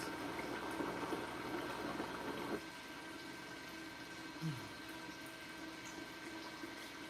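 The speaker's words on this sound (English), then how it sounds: "it'll pull the water from underneath the device up through the top, and then creates that nice cycle of water happening within your build" A submersible aquarium water pump drawing water up through the top and circulating it, giving a steady low bubbling and gurgling hum that runs on without pause.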